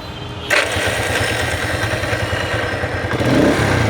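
A modified Road Master 80cc motorcycle engine kicks into life after a brief pause, then settles into a close, loud, rapid putter with a slight rev toward the end.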